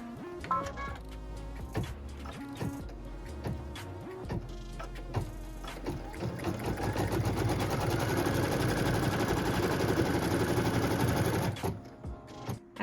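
A sewing machine stitches a seam line across a pieced quilt block. It follows a few clicks of fabric handling, then hums steadily and close for several seconds before stopping.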